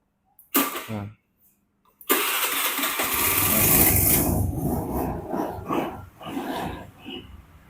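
A blue 2009 Honda Beat automatic scooter gives a short blip, then starts and settles into a steady, close mid-pitched running hum with slight revving.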